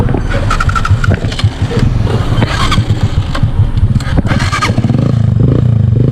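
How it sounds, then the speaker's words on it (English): A faulty motorcycle engine starts up close by and keeps running with a loud, rough, uneven rumble and sharp pops for several seconds. "Bike turn on."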